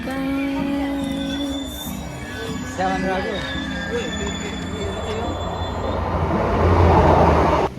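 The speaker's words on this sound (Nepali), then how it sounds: "हाम्रो ट्रेन आयो" A train rumbles and rolls in to a London station with a rising roar toward the end, wheels faintly squealing, while people talk over it.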